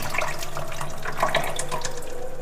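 Masoor dal is rinsed under a running tap, with water splashing continuously and close over the lentils in a sink and tiny drips flickering through the flow.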